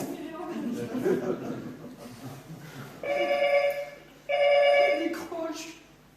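A telephone bell rings in two clear bursts near the end of the clip, following a stretch of indoor chuckling and murmured voices.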